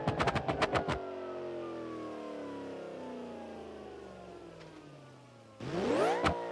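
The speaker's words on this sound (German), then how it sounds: "Motor läuft noch, ziemlich realistisch." A car engine in the BeamNG Drive driving game keeps running after a crash: an idling motor hums steadily for several seconds between short bursts of sharp impact noise at the start and end.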